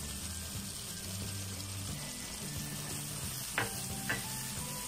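Masala, spices, tomatoes and pickle masala frying in a pan for vegetable pulao, a steady close sizzle with soft scraping from stirring and two brief clinks.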